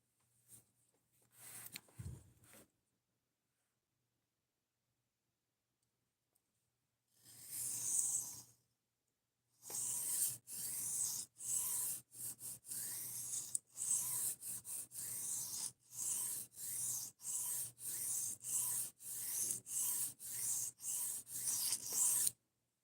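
A blade edge is filed or sharpened to raise a burr. After a few brief early strokes and a pause, it settles into a steady run of rhythmic rasping strokes, close and fairly quiet, with no talking.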